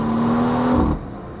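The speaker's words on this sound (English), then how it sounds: "The car behind us is catching up, so let's start pushing a bit more" A BMW M140i pulls hard on the Hulftegg mountain pass in the Swiss Alps, its engine note rising briefly in a loud, close acceleration before easing off as the driver lifts.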